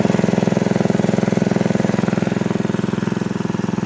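A motor pump drains water from a grassy pond through a pipe, running as a steady, close, loud engine with a fast even thumping pulse throughout and no talking.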